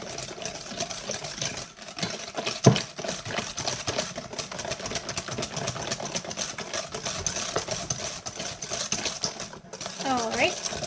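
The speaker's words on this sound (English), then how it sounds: "I like to break up my yolks when I'm mixing, and then I can really go at it." Eggs and batter for a carrot cake cheesecake are beaten in a bowl, giving a steady close motor whir with scattered clinks and scrapes against the bowl.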